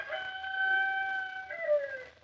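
A rooster crows once in a radio drama, a clear drawn-out call with rising and falling tones, close and alone with no talk over it.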